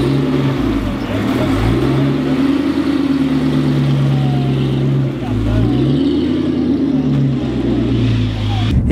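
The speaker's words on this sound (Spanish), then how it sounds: "el Bugatti este SC, el 57 SC, llamaba muchísimo la atención, un sonido muy especial" Classic Bugatti 57 SC engine revving at a concours d'elegance, a loud, steady mechanical drone with rising and falling pitch swells, close by, continuous for the whole stretch.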